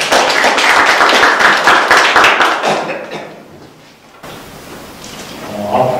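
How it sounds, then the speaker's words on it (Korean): An audience at an academic conference on Goryeo celadon at the Donggok Museum claps in a dense, lively burst that tapers off after about three seconds into near quiet, with faint sounds of movement at the end. "여러분들 박수 한번 부탁드립니다."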